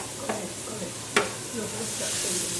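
A whole large onion sizzling in a pan for seafood paella, a soft steady frying hiss with two sharp stirring scrapes of the spoon, close and continuous.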